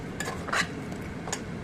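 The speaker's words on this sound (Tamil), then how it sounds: "தேங்காய் அரைச்சி ஊற்றி நல்லா கலக்கி விட்டுக்கோங்க." A spoon stirs ground coconut paste into a mutton paya (goat trotter) curry in a metal pot, with a few soft clinks and scrapes over a steady background hiss.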